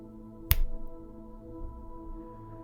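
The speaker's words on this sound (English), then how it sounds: "So here we go, when I snap my fingers." A single crisp finger snap rings out near the start, close and sharp, over a faint steady hum with no talking.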